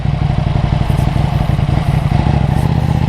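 A Ducati Panigale 899 motorcycle being ridden gives a loud, steady engine drone with a rapid pulsing beat and a rough, clattery edge that holds at a constant level throughout.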